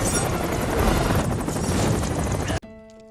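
Loud, steady roar and thumping of a nearby helicopter hovering by a mountain cliff in strong wind, with gusty buffeting, cutting off abruptly near the end to a quiet tonal background.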